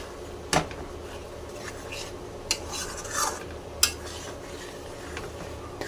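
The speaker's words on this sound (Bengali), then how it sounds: "এবার ভালো করে কষিয়ে নেব।" A thick paste of poppy seed, cashew and chilli being sautéed and stirred in a pan for a paneer dish, with a low background hum, a few sharp spoon-on-pan clinks and faint scraping.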